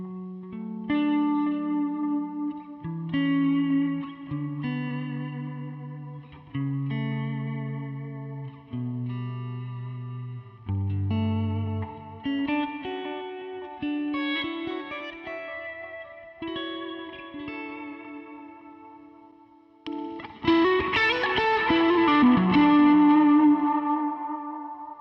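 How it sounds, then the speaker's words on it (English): An electric guitar played through a budget pedal board with reverb and delay rings out in a slow sequence of sustained notes and chords, each trailing into echoing washes, building to a denser, louder strummed passage at the end. "if I go down to reverb and delay, I think we can have both going on then"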